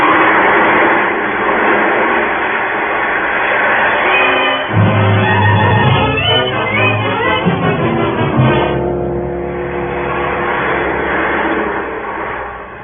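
A roller coaster ride sound effect from a 1949 old-time radio drama: a continuous rattling, rumbling mechanical roar that swells and clatters in the middle, then settles into a steady rolling drone, loud and without speech.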